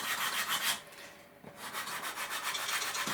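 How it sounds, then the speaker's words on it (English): Soft rhythmic scratchy rubbing of a sanding stick on balsa wood, shaping model plane ribs, strokes repeating steadily with a short pause partway through, close and fairly quiet. "take the sanding stick and sand that"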